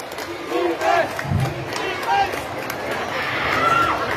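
Crowd cheering in the closing minutes of a basketball game, a broad roar of voices rising and falling, with a commentator talking loudly over it.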